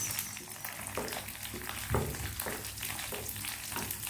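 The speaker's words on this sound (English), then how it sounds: "let them all get toasted for a while together with the onions" Dried chilies and onions toasting in a pan, a steady close sizzle with occasional stirring scrapes breaking through at intervals.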